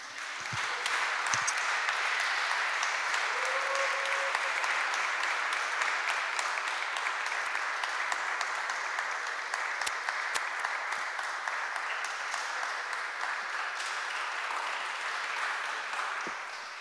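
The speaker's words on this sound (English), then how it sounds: "there was quite a long applause from the audience" Long, sustained audience applause after a talk, dense steady clapping from a crowd holding an even level for over fifteen seconds and tapering slightly at the end, heard at a moderate distance.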